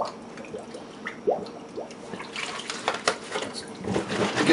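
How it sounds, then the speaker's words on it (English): Hot soapy water runs into an empty plastic milk jug with gurgles, drips and splashes that grow busier and louder as it fills, close by and mostly alone. "I fill them up probably halfway or 3/8 of the way full"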